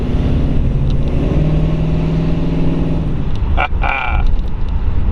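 A hopped-up flathead V8 in a 1940 Ford Tudor slantback pulls away in second gear, its low engine drone building steadily and close by with a brief higher whine partway through.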